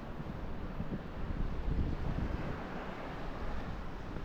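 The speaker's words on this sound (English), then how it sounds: "wind." Wind at a beach, a low rumbling gusty roar buffeting close to the microphone, steady and fairly quiet throughout with no voices.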